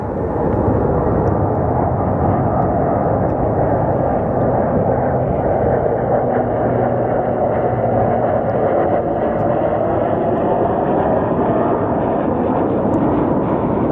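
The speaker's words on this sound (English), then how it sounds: "Little Southern Air Pilatus, most likely coming out of Sholo, Arizona." A Southern Air Pilatus turboprop near Sky Harbor Airport makes a loud, steady engine roar and rumble that holds constant throughout, close and dominant with no voices.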